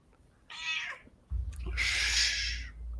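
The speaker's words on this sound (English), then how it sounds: "Somebody's cat pissed off." An angry cat yowls in two drawn-out, strained meows, the second longer and louder, over a low steady rumble of background noise.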